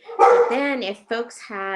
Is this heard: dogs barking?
yes